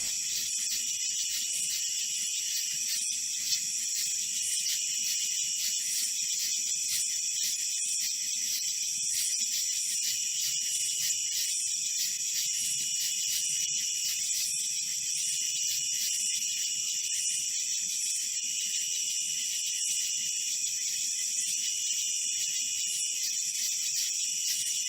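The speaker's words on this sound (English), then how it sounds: "I love the sounds of nature at night and the nocturnal frogs and bugs" A nighttime nature chorus of crickets, nocturnal frogs and bugs, a dense high-pitched trilling drone that stays steady and fairly loud for the whole stretch, with no voices.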